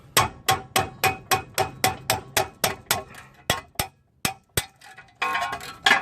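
Sharp metal hammer blows strike a 1999 Toyota Tacoma's lower ball joint, a fast steady series of close, loud clanks that slows into a few spaced hits, with some clattering at the end.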